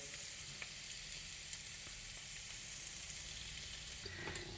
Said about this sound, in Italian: Iniziamo a far rosolare questa bella mistura e che profumo, mamma mia!